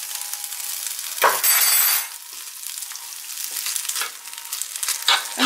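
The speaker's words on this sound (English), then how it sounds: "I'm gonna fry this for around 2-3 minutes." Black bean spaghetti tossed with breadcrumbs sizzles in a hot pan, a steady frying hiss broken by a few sharp scrapes and clinks of a utensil stirring against the pan.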